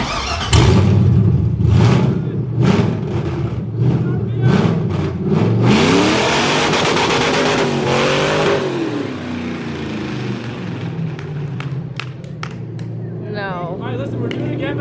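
A V8-swapped Toyota Cressida doing a burnout, its engine revving hard and bouncing off the rev limiter while tires squeal, loud and close, with people shouting over it.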